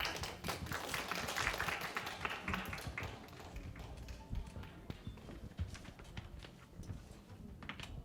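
A church youth service crowd claps to welcome speakers, a dense run of scattered hand claps and taps that is loudest at first and then thins into sparser claps, heard fairly far off in a reverberant hall.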